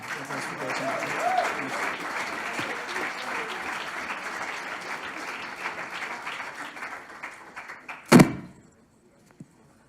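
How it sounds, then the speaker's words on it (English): Sustained audience applause at a design fair pitch event, steady clapping from a crowd that fades out after a sharp thump near the end. "Please give a big applause to Raphael and his brother"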